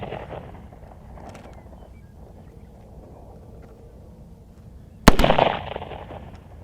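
A C96 Mauser pistol fires a single sharp, loud shot near the end, preceded by quiet outdoor wind and ambient noise.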